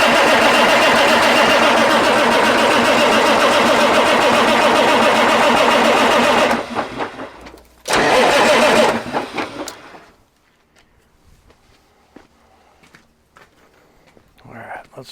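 A car engine cranks and fires after wiring harness work, a loud rough running roar that fades out, bursts again briefly, then dies into near silence with faint clicks.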